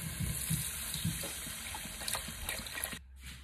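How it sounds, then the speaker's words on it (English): Store-bought chicken broth is poured into a soup pot for creamy chicken tortilla soup, a soft, fairly quiet liquid gush and trickle that runs for a few seconds before cutting off near the end. "So, time to put in the chicken broth."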